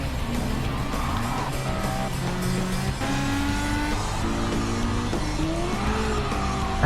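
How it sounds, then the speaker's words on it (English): Ferrari Testarossa driven hard in a racing video game: engine notes rise and fall through repeated gear changes, with squealing tyres and other cars close by, loud and continuous. "Francesca is pushing the ever-living shit out of this Testarossa."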